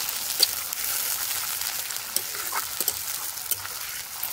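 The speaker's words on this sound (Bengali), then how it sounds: "এবার এটাকে সুন্দর করে নাড়াচাড়া করতে থাকবো যতক্ষণ এই তেলগুলো গলে না যায়।" Fish fat frying with garlic and green chili in oil, a soft continuous sizzle with occasional light pops and a few faint scraping strokes from stirring.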